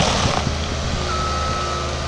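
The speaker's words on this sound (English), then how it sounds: "It has the backup alarm." Backup alarm on a 2006 Bobcat S160 skid steer, a steady tonal beep held over the loud rumble of the running machine, close by.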